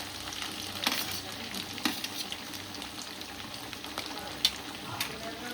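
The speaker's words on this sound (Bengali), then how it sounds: "এখানে আদা রসুন কুচি আর লঙ্কা কুচি চলে গেছে, একটু ভাজি" Chopped ginger, garlic and chili sizzling in hot oil, a soft steady frying hiss with occasional stirring clinks and scrapes, faint and close.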